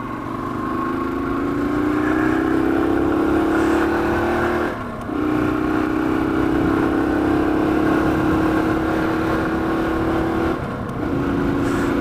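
A Yamaha TW200 motorcycle with a new rear rim rides and accelerates, its engine note rising steadily through two long gear pulls with brief dips at the shifts, loud and close.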